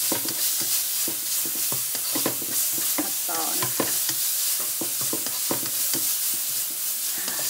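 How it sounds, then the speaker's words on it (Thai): Pork and mushrooms stir-fried in oyster sauce in a hot pan: constant sizzling punctuated by rapid, rhythmic scrapes and knocks of a spatula, close up and with no talking. "ผัดจนหมูสุกนะคะ"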